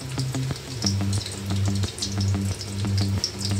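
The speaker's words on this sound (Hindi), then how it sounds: "हम ऑयल में प्याज डाल देंगे, इसको हमने फ्राई करना है" Onions frying in oil in a pan, a continuous crackling sizzle with scattered pops and a low rhythmic bubbling throughout.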